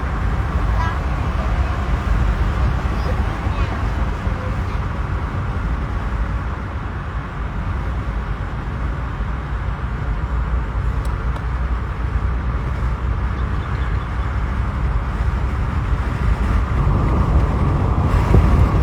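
Steady road and traffic noise as a car merges onto the Kwinana Freeway in Perth, a continuous loud rumble of engine and tyres with passing vehicles and a faint honk.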